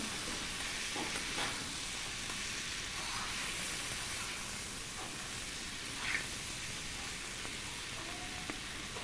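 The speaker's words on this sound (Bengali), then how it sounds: "দিয়ে দিলাম চিংড়িগুলো। একটু ওপর নিচ করে নেব" Prawns being stirred and fried in a pan for an echor chingri curry, with a steady dense sizzle and hiss throughout and faint scraping turns of the spatula, all quiet and continuous with no voices.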